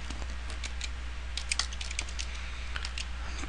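Someone types a search on a computer keyboard, with quick irregular bursts of close, crisp key clicks over a low steady hum.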